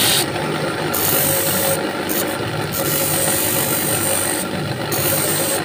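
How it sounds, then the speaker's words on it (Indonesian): A monel ring is sanded by hand, giving a continuous gritty rasp that is loud and close, with short breaks and shifts in the scraping strokes. "diamplas lagi, guys"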